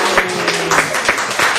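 A small group claps for a child at a kids' play group activity, steady spattering applause at a moderate distance lasting a couple of seconds.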